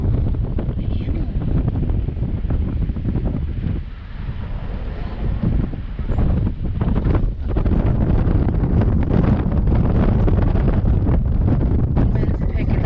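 Strong wind buffets the microphone outdoors at a roadside stop, a continuous loud low roar with gusty swells that dip briefly near the fourth second before building again.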